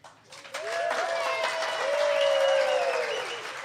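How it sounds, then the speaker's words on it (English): A small theatre audience at a comedy performance breaks into applause after a quiet start, clapping mixed with cheers and whoops that stay steady to the end. "we would like to hear as much applause as we can"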